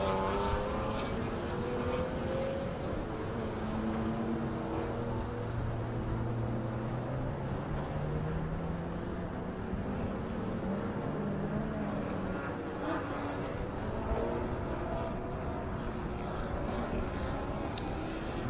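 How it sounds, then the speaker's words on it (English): Race cars on a track, including a Cobb Tuning Subaru VA WRX STI and a Porsche 911 Carrera S, in a Super Lap Battle at Circuit of the Americas: a steady, continuous engine drone with shifting pitch sweeps, held at an even level throughout. "Being followed by Sally McNulty in that IAG Performance Cobb Tuning Subaru VA WRX STI."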